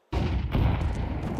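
A grenade in Counter-Strike 2 detonates with a sudden, loud, close boom that rolls into a rumbling decay lasting over a second, with no voices over it.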